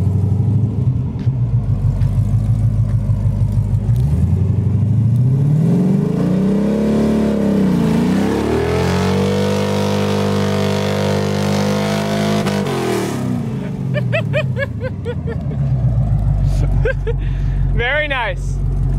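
A Corvette with a faulty condition roars through a burnout, its engine revving up in long rising sweeps to a sustained loud howl before easing off into idle rumble and clatter.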